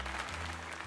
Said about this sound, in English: let us give another heartfelt round of applause to Kylie.